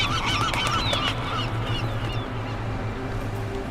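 Flock of birds honking like geese in the video game Deus Ex: Mankind Divided, a dense overlapping chorus of calls over a steady ambient drone.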